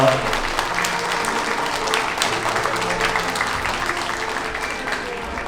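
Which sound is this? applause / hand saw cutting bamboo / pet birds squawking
applause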